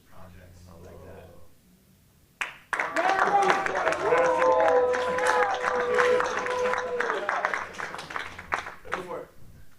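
An audience bursts into applause at a tech meetup, the clapping loud and sustained for about six seconds before tapering off, preceded by a short stretch of quiet talk.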